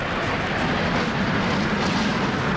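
An F-15C Eagle fighter jet flies past at an air show, its engines giving a loud, steady broadband roar that holds evenly across the whole moment with no talking over it.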